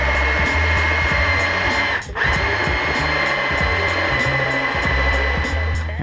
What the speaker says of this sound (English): And we're ready to trim.